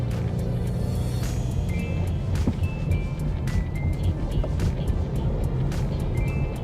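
Cabin sound of a 2025 Ford Mustang EcoBoost Fastback on the road, a steady low engine and road rumble with tyre noise throughout, no talking.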